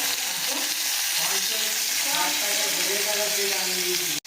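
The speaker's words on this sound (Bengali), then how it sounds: "সরষের তেল গরম হয়ে গেছে, এতে সব মাছগুলোকে আমরা দিয়ে দিচ্ছি" Prawns sizzle and crackle steadily in hot mustard oil in an iron wok, close and loud throughout, with a voice talking over the frying.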